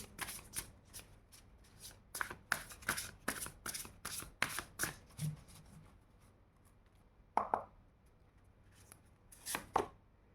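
Tarot cards are shuffled by hand for a reading: a quick run of crisp riffling flutters, then a pause and a few separate shuffles, close and fairly quiet with no speech.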